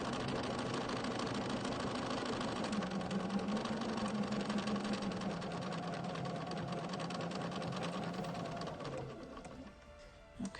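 A sewing machine stitches gathered purple silk down onto an art quilt, running in one long steady hum that fades near the end.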